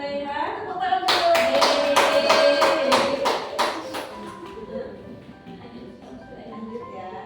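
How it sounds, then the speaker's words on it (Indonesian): A group claps hands during an indoor session, a burst of sharp, fairly close claps lasting a few seconds before fading out, with a voice heard before and after. "Tepuk tangan dulu."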